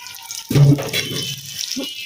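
Tap water running at a household sink while dishes are washed, a brief close splash and gush lasting about a second before tapering into softer trickling, with no talking.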